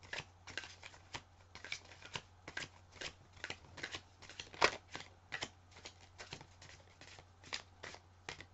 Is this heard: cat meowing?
no